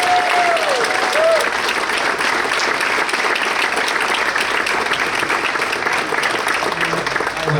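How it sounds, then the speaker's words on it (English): Applause fills the room at a boys lacrosse banquet, a sustained, dense clapping from a large audience lasting throughout, with a brief whistle near the start. "Give a round of applause for the 2023."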